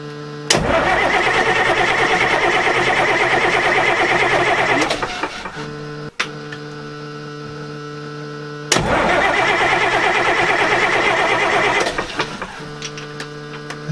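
An engine cranks while its fuel injectors are loosened for bleeding after a NAPA 3370 fuel filter change. Two long, loud bursts of rapid starter churning run for several seconds each, separated by a short quiet pause, and no speech is heard.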